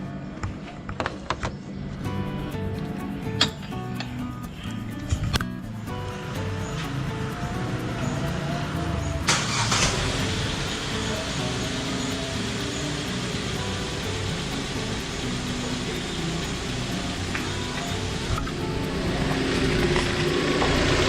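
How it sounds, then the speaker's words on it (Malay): A car engine turns over after a serpentine belt replacement and settles into a steady idle, a continuous low mechanical hum with a few clicks and knocks near the start. "So kita start enjin lah."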